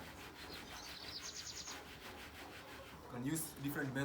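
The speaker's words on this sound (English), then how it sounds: "So immediately you start sieving." Black soldier fly larvae being sieved by hand for harvest, giving a steady scraping, rubbing rustle for a few seconds before a louder, busier burst with faint chirps near the end.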